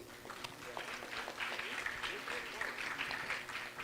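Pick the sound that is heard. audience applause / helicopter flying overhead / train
audience applause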